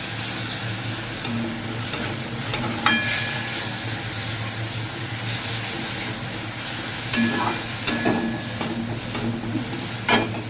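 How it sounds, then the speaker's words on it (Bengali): Spice paste with tomato sautés in a pan, a steady close sizzle broken by scraping stirs and occasional louder clatters of the spoon against the pan. "মশলাটা ভালো করে কষিয়ে নেবো।"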